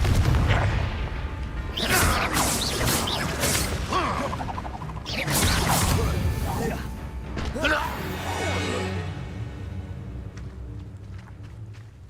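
Spell blasts in the video game Hogwarts Legacy: a few heavy booming explosions with whooshing swells and crashing debris, loud and dense, under a mix of game effects and player talk.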